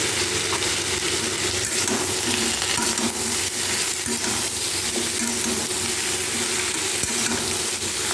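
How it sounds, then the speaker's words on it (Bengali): Steady, loud sizzling of potatoes, pointed gourd and onion frying with turmeric and salt in oil for an alu potol rui fish curry, with occasional stirring scrapes and clinks throughout, no voices. "ভালোভাবে ভাজবো"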